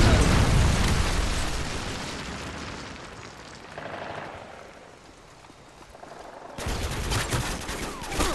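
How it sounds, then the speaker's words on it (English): Heavy rumbling blast and dense explosive crackle from a Predator missile strike in a military video game, loud at the start, fading into a lull, then erupting again with sharp bursts near the end. "Friendly Predator missile inbound."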